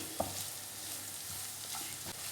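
Sliced onions sizzle steadily in a pan for a tomato fry, close and even, with a sharp tap of the spoon early on and a few soft stirring scrapes.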